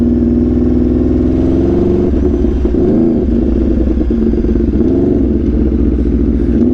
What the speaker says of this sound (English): Everyone say that Rsv4 exhaust sounds like a Mustang though.